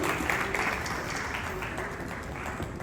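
Applause from an audience at a skill development conclave: a brief, steady wash of clapping, moderately loud and fairly distant, with no distinct individual claps standing out.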